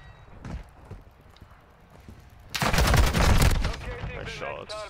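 Gunfire in Modern Warfare 2 ranked multiplayer starts with scattered lighter shots and footsteps, then a loud, dense burst of rapid automatic fire that lasts more than a second before it breaks into a few trailing bursts.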